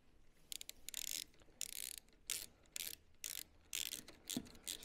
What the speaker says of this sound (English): It's just a 5mm metric Allen bolt to hold that on, and you just bolt that up tight.